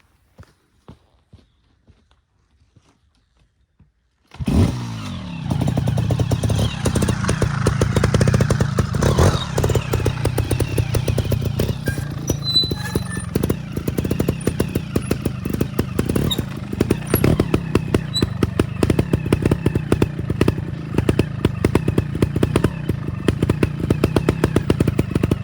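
A trial motorcycle idling on rocks fires up after several seconds of near silence, then runs steadily close by with continuous engine noise and rapid rhythmic popping as the clutch is worked for a launch between stones.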